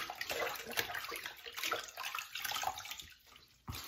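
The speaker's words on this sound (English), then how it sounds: "let me rinse this off" Water runs and splashes from a tap while a straight razor, a Union blade, is rinsed at a sink, a steady close rush with small splatters that briefly dips near the end before surging back.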